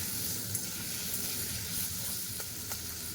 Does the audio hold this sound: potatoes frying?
yes